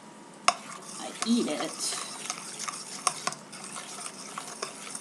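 A shrimp sauce of butter, vegetables and cayenne pepper is stirred in a pan, giving soft scraping and light clinks with a faint sizzle underneath, while a person talks briefly over it.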